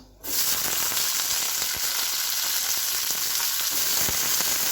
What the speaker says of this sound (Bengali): আমগুলো এতে দিয়ে একটু ভেজে নেব